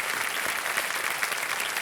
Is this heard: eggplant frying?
no